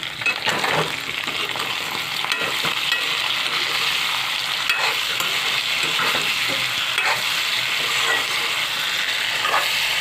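Food with green chillies stirred while it fries in a pan, steady sizzling crackle broken by repeated light scrapes and taps of a spatula against the pan, close-up with no talk.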